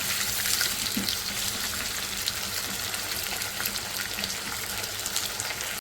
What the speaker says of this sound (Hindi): इसमें हम डाल देंगे आलू। जो करेंगे इसके अंदर अच्छा सा फ्राई 4 से 5 मिनट